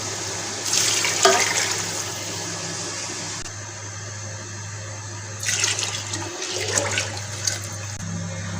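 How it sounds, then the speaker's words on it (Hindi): Water gushes into a cooking pot for rice pulao in two splashing bursts with a calmer steady flow between them, close and fairly loud against a constant low hum. "अब हम इसमें शामिल करेंगे पानी।"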